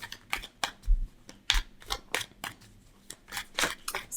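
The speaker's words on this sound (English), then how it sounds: "Shuffling the cards" Tarot cards are shuffled and riffled in quick, crisp bursts of papery clicks and slaps, close up, with brief pauses between rounds.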